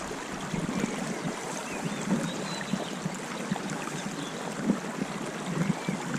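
A small trout stream in Alaska running low, with a continuous rushing, babbling flow of water close by, steady in level with small gurgling swells throughout.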